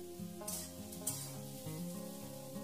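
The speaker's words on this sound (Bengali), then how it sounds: "এখন গ্যাসের ফ্লেম মিডিয়ামে করে আরও 1 মিনিটের মতো নাড়াচাড়া করে নেব" Onion and poppy-seed paste frying in a pan over a medium flame, stirred, with a couple of short scraping sizzle bursts rising over a steady tonal musical background.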